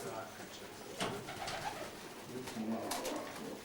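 Pigeons in a fancier's loft coo in soft low bursts, faint and steady against background noise, with people talking nearby.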